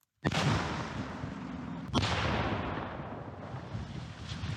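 Explosive charges of anti-tank mines and TNT blowing up railway tracks, set off in two powerful, close blasts about two seconds apart, each a sharp boom followed by a long, rumbling roar of debris.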